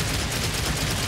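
Continuous rapid gunfire from the Devil May Cry 4 Special Edition video game, a dense, steady barrage of shots at moderate level with no pauses, played alone without talk.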